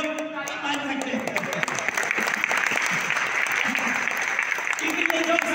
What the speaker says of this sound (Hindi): जो लोग जाग रहे वो लोग ताली मार सकते हैं